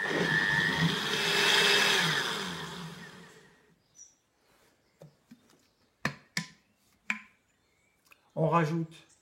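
An electric blender whirs loudly for about three and a half seconds while mixing raw oat milk, then cuts off, leaving a few sharp clicks and taps and a brief voice at the end.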